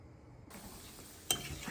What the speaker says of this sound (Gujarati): જો આપણે આ મુઠિયા તરવા મૂકી દીધા છે તો આવી રીતે મીડિયમ ગેસે આપણે મુઠિયાને તરી લઈશું